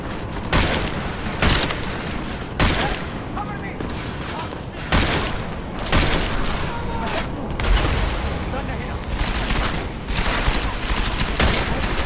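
Revolver shots from the video game Deus Ex: Mankind Divided boom out in sharp, heavy bursts every second or two, loud and close, mixed with game noise and a speaking voice between blasts.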